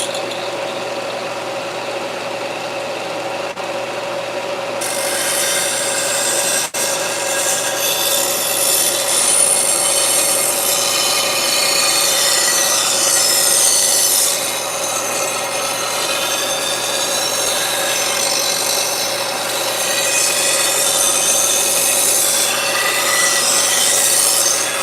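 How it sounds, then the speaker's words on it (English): Hand file rasping on metal armour plate in a home garage, a steady, loud back-and-forth scraping stroke repeating for about twenty-five seconds with no talking. "I'm going to go back with the file and take care of that"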